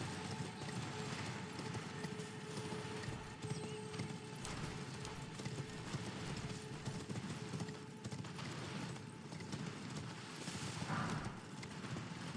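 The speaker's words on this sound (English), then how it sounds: "Can I use my horsey? Horsey!" A horse summoned in the video game Elden Ring: steady clip-clop hoofbeats with a whinny, continuous and moderately close over game ambience.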